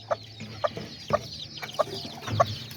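A hen with newly hatched chicks clucks nearby in a slow, regular series of about five short clucks over a low background murmur.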